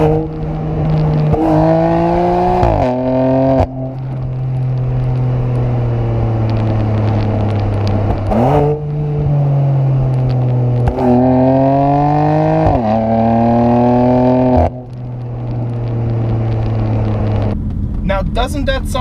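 A BMW M4 straight-six fitted with a Dinan exhaust revs repeatedly, its loud, close engine note rising and falling through several sweeping blips before dropping back to idle, with a few brief pauses between pulls.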